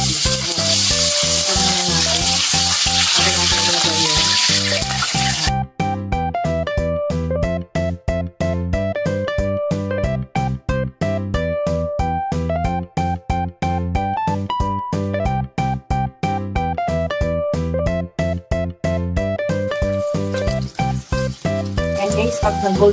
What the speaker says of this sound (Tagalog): Ang pagigisa.